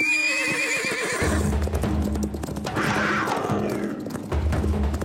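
Horses whinny loudly and shrilly, with hooves thudding and clattering beneath, a chaotic, agitated burst close at hand as a puma attacks one of them.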